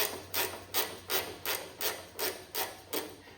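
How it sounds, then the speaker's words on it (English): Ratchet wrench turning bolts on a Kohler KT17 engine of a Cub Cadet 782 tractor, a close, steady series of about nine evenly spaced raspy clicking strokes. "Going to use a ratchet wrench."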